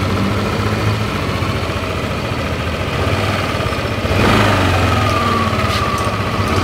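Yamaha Lexi scooter engine running close by, a steady droning idle that rises briefly in pitch midway before settling, with no voices.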